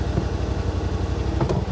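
A Yamaha RMAX 4 side-by-side's engine idles steadily up close, a low, even rhythmic thrum with a faint tick near the end.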